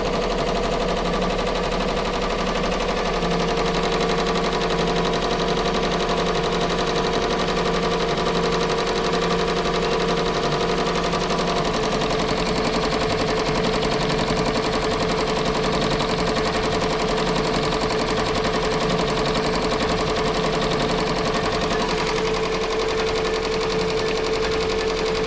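An embroidery machine stitches out a digitized design, giving a steady, continuous mechanical hum and rapid needle rattle that runs loud and unbroken throughout, with no talking.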